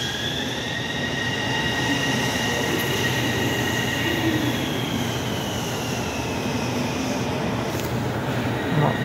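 An electric commuter train rolls steadily past up close, a continuous loud rumble of wheels on track with a faint high squeal, no voices.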